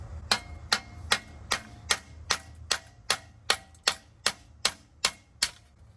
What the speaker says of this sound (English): Watching me try to hit this with a brick.